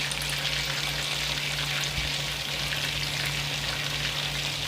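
Chicken fingers fry in a cast iron pan, giving a steady, loud, close sizzle of hot oil that runs unbroken throughout with no voices.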